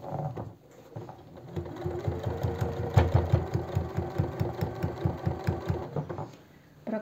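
Domestic sewing machine running a wide straight seam about 4 mm in along the edge of a simple house dress, a steady rapid needle thump throughout, alone and close.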